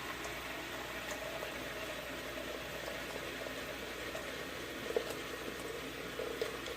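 Tap water runs steadily into a bathroom sink bowl being filled for shaving, a continuous hiss and patter close by with a few small splashes.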